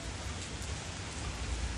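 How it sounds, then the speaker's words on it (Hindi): Heavy rain pours down in a dense, steady roar of broadband hiss, constant and close with no voices. "बहुत तगड़ी बारिश हो रही है"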